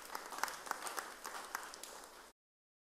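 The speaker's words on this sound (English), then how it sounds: "A round of applause for him." A short round of applause from a church congregation at a Marian solemnity, scattered claps under a faint murmur, fairly distant and brief before stopping abruptly.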